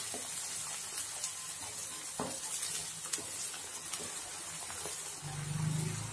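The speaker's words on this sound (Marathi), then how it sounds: "तेल तेल तापलंय। तेलात आपण जे वाटण टाकून घेतलंय ते चांगलं परतून घ्यायचंय।" Masala paste made of ground spices sizzles in hot oil in a pan, a steady close frying hiss with occasional stirring scrapes and a rising bubbling sputter near the end.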